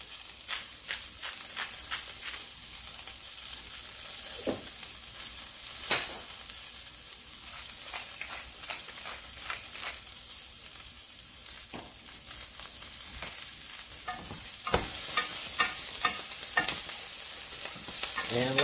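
Bell peppers browning in a hot pan, a steady sizzle running throughout with repeated sharp scraping clicks of stirring, louder near the end.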